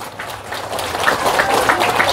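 A crowd applauds in honour of Islamic boarding schools, the pondok pesantren, with dense, building clapping that swells fairly loud and carries on without talk over it.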